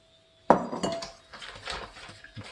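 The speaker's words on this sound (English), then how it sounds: "keep whisking that." Semolina custard being whisked in a pot: a sharp metal clack, then a run of softer scraping clinks and taps of the whisk against the pot, close and fairly quiet.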